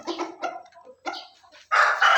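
Young roosters and hens on a farm raised for meat, a few close clucks and short squawks followed by a louder burst of crowing-like calls.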